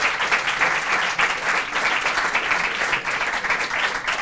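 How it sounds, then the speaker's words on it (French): Studio audience at a televised talent show gives the performers big, sustained applause, a dense, even roar of many hands clapping close and loud with no break. "des gros applaudissements pour eux"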